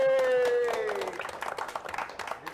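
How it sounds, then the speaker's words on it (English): A crowd claps at a poker tournament final table as a player is welcomed, the applause building into dense, steady clapping after a voice fades out at the start. "A round of applause, please, for Dan Williams"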